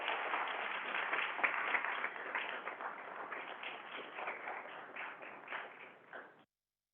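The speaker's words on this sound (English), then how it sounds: "Let's give them a round of applause for all their hard work." Steady round of applause from a city council meeting audience honoring young voting advocates, dense clapping that holds evenly for several seconds, then thins and stops abruptly.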